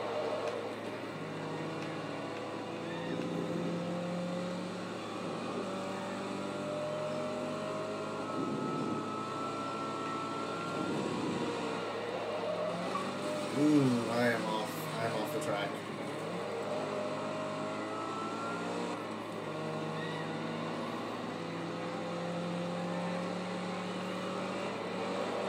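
Race car engines in the Forza 2 video game drone and whine through gear changes and rising revs, with one louder passing surge midway, while someone talks over them.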